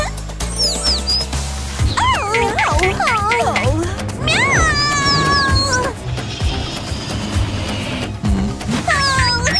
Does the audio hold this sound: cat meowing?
yes